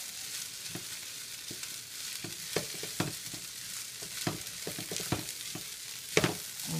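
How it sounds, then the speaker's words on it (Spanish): Lentils stirred into cooked wild rice frying in a pan, a soft steady sizzle broken by frequent scraping clicks of a spoon against the pan, quiet and close, with no talk. "Ahora vamos a echarle nuestras lentejas."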